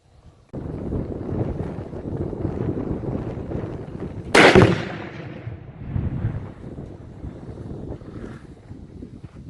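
A rifle shot sets off a Tannerite exploding target downrange, a sharp loud blast that stands out over steady outdoor wind noise, then rumbles and decays for a couple of seconds.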